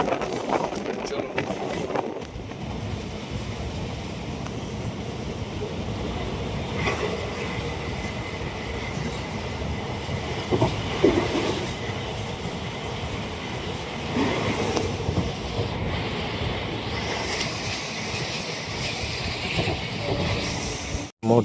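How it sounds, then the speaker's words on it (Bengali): Passenger train pulling into Salar station heard from on board, a continuous rolling rumble with intermittent clicks and clatter of wheels over rail joints, while someone talks over the steady carriage noise. "মুহূর্তে সালার স্টেশন ঢুকে গেল আমাদের ট্রেন।"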